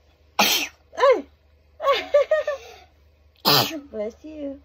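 A child sneezes sharply amid playful chatter and giggling, with a second sneeze-like burst later.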